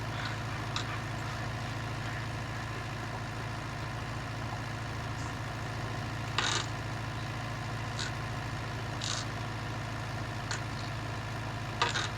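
A County 754 tractor ploughing a field runs with a steady, low diesel drone that holds constant throughout, with a few faint, brief clanks and rattles over the top.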